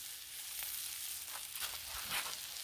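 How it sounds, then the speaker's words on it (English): Vegetables sear on a hot Blackstone griddle, giving a steady, close hiss of sizzling with a few faint scrapes and pops, no voices. "Look at the pretty sear. We'll flip these over."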